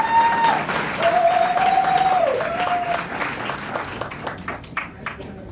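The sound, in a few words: audience applause for township clerk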